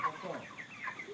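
Broiler chickens on a poultry farm at night, several soft clucks and murmuring calls overlapping briefly at moderate distance.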